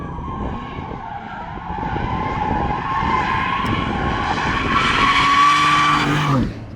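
BMW G87 M2 on a race track, tyres squealing and skidding hard over a steady high-revving engine roar that builds toward the end before cutting off abruptly.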